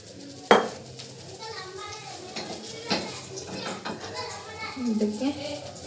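A frying pan (kadai) set down on a home kitchen stove with a single sharp metallic clank, then quieter scrapes and faint kitchen clatter while cooking oil goes in for paneer gravy; a voice is heard in the background.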